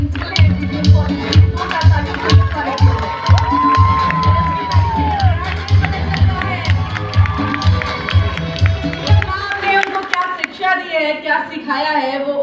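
Crowd at an event at GVM Girls College in Sonipat claps and cheers for actress Anjali Raghav, loud and continuous with whoops and shouting layered over strong low rhythmic music, fading toward the end.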